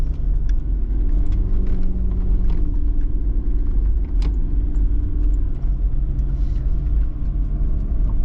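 A four-wheel drive car travels a graded dirt track on the Bulltown Spur near Dargo, Victoria, with a continuous low engine and tyre rumble, loose rattles and jangling inside the cabin, steady and close throughout.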